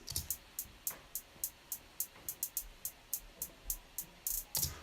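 Compressed 808 hi-hats in a drum-punch demo tick out alone in a steady, fairly fast pattern of crisp, bright hits, with a couple of louder, fuller accents near the end.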